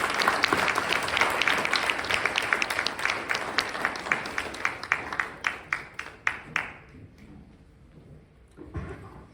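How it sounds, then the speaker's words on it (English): Audience applause at an evening lecture, dense at first, then thinning into fewer distinct claps that fade out, followed by a brief quiet stretch and a faint final rustle. "a round of applause"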